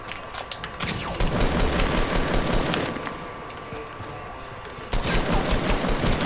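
Rapid, dense automatic gunfire from a video game rattles almost without pause, loud and close, with a brief dip before another burst.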